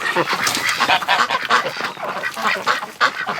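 A flock of ducks in a barn on a winter day, quacking and honking over one another in a dense, continuous chatter that stays close and loud throughout.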